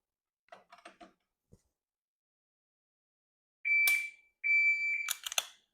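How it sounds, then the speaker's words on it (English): A shot timer sounds during dry fire pistol practice, giving two loud, sharp electronic beeps close by. A few faint clicks come earlier, in an otherwise quiet room. "Each time it beeps, I'm gonna press the trigger"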